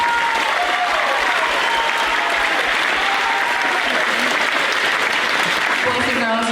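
A crowd applauds graduating 5th graders at an elementary school graduation ceremony, with loud sustained clapping running throughout and a few voices and cheers mixed in.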